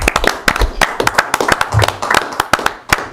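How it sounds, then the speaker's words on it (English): A small audience at a village board meeting applauds with sharp, distinct, close-up claps in an uneven rhythm. The individual hand strikes stand out clearly rather than blending into a wash. "let's applaud Ward"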